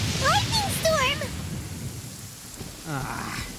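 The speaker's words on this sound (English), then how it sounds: "Lightning storm!" Lightning storm in the Genshin Impact video game, with steady rain hiss and a low rumble of thunder beneath, while voices speak over it.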